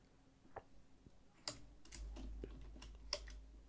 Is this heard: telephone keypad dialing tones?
no